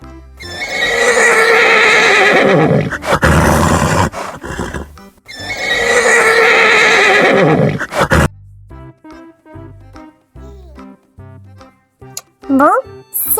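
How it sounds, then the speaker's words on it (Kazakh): A horse neighs loudly twice in long, shaky whinnies, each lasting a couple of seconds, followed by quieter, scattered sounds. "и-го-го-го-го дейді."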